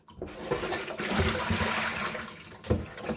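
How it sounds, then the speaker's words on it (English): Celery rinsed under running tap water in a kitchen, a steady close splashing rush lasting a few seconds. "Just give the celery a good wash."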